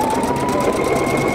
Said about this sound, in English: And then it stitches that decorative stitch and comes back to the line.